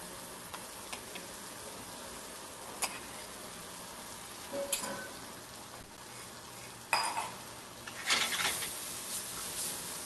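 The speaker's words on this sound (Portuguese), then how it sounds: "E aí a gente vai envolver o feijão com o ragu de linguiça." A spoon stirs sausage ragù into cooked beans in a pot, soft scraping and sloshing with a few sharper knocks against the pot over a quiet sizzle.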